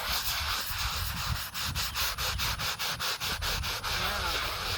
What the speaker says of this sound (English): it's just a matter of scrubbing gently